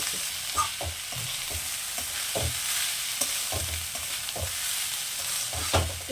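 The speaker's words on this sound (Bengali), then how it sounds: "এবার এটাকে সুন্দর করে আমরা মিক্স করব, একটু ভেজে নেব চালটাকে" Rice sizzles in a hot pan while a spoon scrapes and stirs it in irregular strokes, close and clear with no talking.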